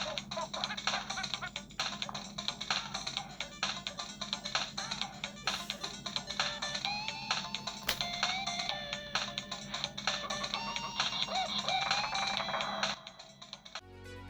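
Sound test at full volume from the mono speaker of an RG351V retro handheld console: a busy, continuous game-style chiptune melody with beeps and tones playing throughout, fairly bright and loud before cutting off at the end.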